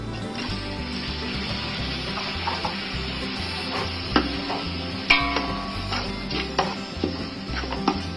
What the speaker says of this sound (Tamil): இஞ்சி பூண்டு பேஸ்ட்டை நல்லா வதக்குனதுக்கு அப்புறமா தக்காளி போட்டு நல்லா வதக்கிக்கலாம்.